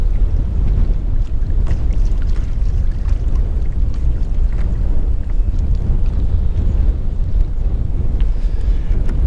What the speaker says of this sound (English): I'm actually kind of glad it's windy.